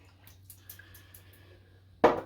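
Water pours in a short, loud splash at the end during a shaving soap lathering session, preceded by faint drips and a low steady hum.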